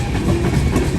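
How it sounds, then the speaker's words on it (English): A northbound ethanol freight train rolls past close by, a dense low rumble of wagons with rhythmic rail clatter, loud and steady for a brief moment with no voices. "the longest ethanol train I've ever seen"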